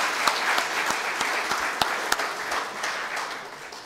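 Audience applause for the speakers and the day's moderator, a priest, at a French-speaking gathering: steady, dense clapping from many hands sustained throughout, with a few sharper individual claps standing out.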